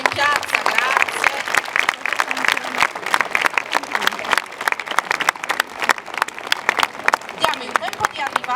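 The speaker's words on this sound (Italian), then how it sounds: "se fate un applauso a queste signore che stanno arrivando in piazza" A crowd in a town square in Ottana, Sardinia, claps steadily for women arriving in traditional Sardinian dress during a procession, dense sustained applause with voices murmuring and calling underneath.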